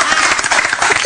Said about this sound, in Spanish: Un aplauso para Pablo y Pacho